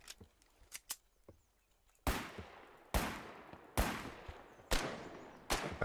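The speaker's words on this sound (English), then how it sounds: "They are trying to shoot at me." In the war game Foxhole, gunfire aimed at the player's character cracks out as five loud, evenly spaced shots, preceded by fainter, more distant pops.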